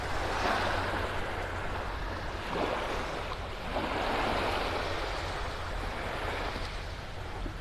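Gentle surf rolls onto Vanderbilt Beach in North Naples, Florida, a steady wash of waves with some wind noise and no talking.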